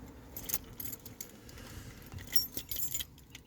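Keys jangling up close outdoors on a grey day by the River Humber, a few quick metallic rattles in short bursts, fairly faint, with no talking.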